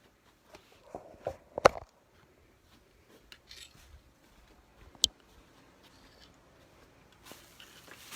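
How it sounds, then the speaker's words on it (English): Double curved scissors trim through fabric and batting on an in-the-hoop embroidered advent calendar ornament, giving a few sharp, close snips and clicks spaced out over quiet handling noise, with no talking. "I'm going to go trim this with the double curved scissors"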